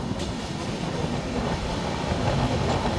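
From inside a moving passenger train on the Padma Bridge rail line, a dense, continuous rumble and rattle of the carriage fills the scene at steady loudness.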